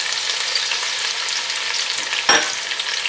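Onions and ginger-garlic paste sizzle and crackle in hot oil in a handi. The frying hiss is loud and close, with one short sharp burst as the pan is stirred.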